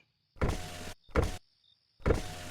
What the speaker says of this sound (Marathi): परत तुम्ही विंडोही वर खाली करू शकता.